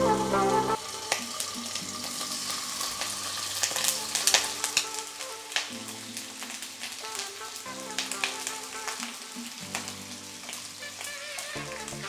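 Hot oil sizzles and crackles steadily as chicken fries, with light clatters and stirring sounds over a continuous hiss.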